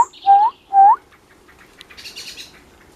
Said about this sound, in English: The birds are fleeing as they see Jack.